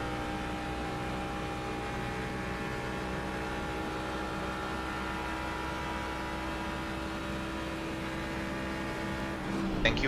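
Ford Mustang GT3 race car engine in a sim racing game at Spa, a steady, droning multi-harmonic engine note held at constant pitch, fairly quiet and continuous, with a brief bump near the end.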